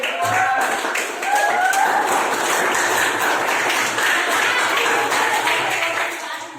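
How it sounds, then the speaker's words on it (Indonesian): Students in a classroom applaud a group of classmates, a steady wash of many hands clapping that holds at an even level throughout, with voices mixed in. "Untuk kelompok yang tadi itu panggil namanya, kasih tepuk tangan dulu ya"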